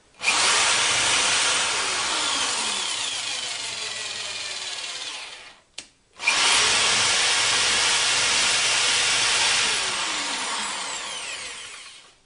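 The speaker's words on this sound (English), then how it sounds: "I'm just going to use a drill here." A power drill drives the lead screw of a homemade tilting router lift in two long continuous runs, whining steadily for about five seconds, pausing briefly, then running again for another six seconds, loud and close with no talking.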